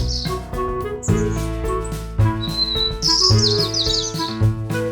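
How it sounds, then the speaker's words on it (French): A bird chirps in a forest setting, high bright calls over a steady bed of music, several short tweets clustered in the second half. "C'est un oiseau!"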